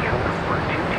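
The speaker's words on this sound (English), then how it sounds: "Let's hear Air Force One." Air Force One taxiing or idling at a New York airport during a ramp freeze, producing a steady, loud broadband jet engine roar with no breaks, overlaid with faint background voices.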